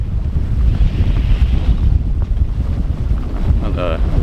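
Strong wind at sea aboard a sailboat in a rising thunderstorm, with winds in the 20s: steady loud roaring gusts and wash of water against the hull, constant throughout with a brief rattling near the end.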